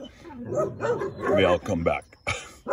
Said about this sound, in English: My dogs and neighbor dogs are playing here